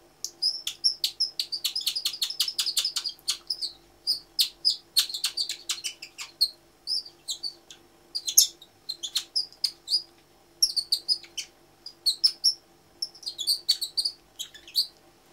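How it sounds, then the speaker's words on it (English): A European robin repeats rapid, high-pitched ticking and trilling calls in a steady series of bursts, clear and close against a faint hum. "it is a little robin call"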